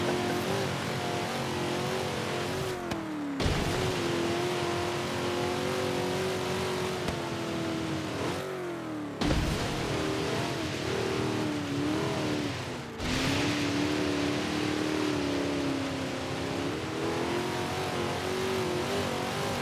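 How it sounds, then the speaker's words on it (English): A video game car engine revs hard toward redline in long sustained pulls, its pitch climbing and holding, with brief drops between gear changes; loud and close, no talking. "I only redline when I floor it, Chef. Or when I miss a gear."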